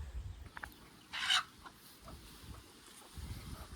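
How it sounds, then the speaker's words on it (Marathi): Chickens cluck faintly at a distance on a village farm, one short burst of louder clucking standing out as one hen chases another, over low rumbling background noise. "ही कोंबडी बघा त्या कोंबडीच्या मागं लागली"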